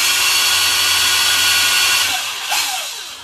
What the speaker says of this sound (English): You'll notice I've put some masking tape on the drill to stop it going in too deep